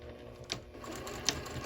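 A sewing machine backstitches a seam on a fabric pillow with batting inside, a short close mechanical run with a couple of sharp clicks near the end.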